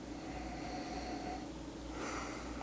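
A deep nasal inhale over a glass of Booker's Bourbon, Front Porch Batch 2017-03, heard as a long, close, breathy sniff that swells toward the end.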